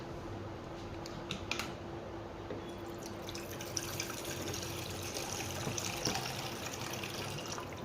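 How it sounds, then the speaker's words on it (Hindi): Cold water is poured out for mashing into a fruit detox drink, a steady splashing, trickling flow with faint drips that carries on throughout, close by and fairly quiet, with no voices. "आप निकाल के लाओ ठंडा ठंडा पानी"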